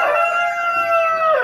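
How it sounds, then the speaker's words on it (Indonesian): Chickens crowing in a rooster's drawn-out cock-a-doodle-doo, a single loud, close crow lasting the whole moment with faint clucking beneath, no talk. "Nah, inilah ayam-ayam kita sobatku."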